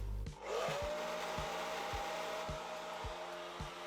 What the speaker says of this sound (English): So I lift, take the diffuser up onto my head and diffuse